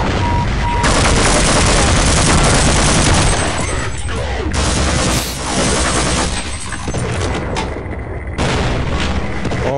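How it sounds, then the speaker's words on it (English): Dense, continuous gunfire and booming explosions fill a military base firefight in the Half-Life video game, loud and relentless with only brief dips, and a voice talks faintly underneath. "Oh no, it's just a distant explosion."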